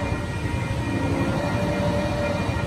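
A Metrolink commuter train arriving at San Clemente station, a steady, loud rumble of rolling cars and engine drone filling the whole stretch with no pauses.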